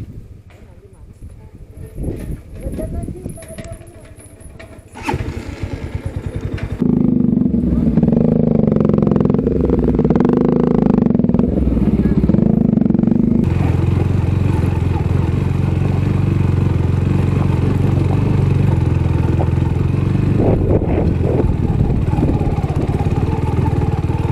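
A motorcycle engine idles and revs up close, a steady loud drone after some clatter and voices at the start.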